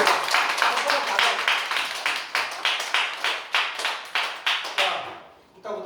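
An audience claps in a slow, regular, rhythmic beat, roughly a dozen distinct loud claps evenly spaced in unison, fading out at the end.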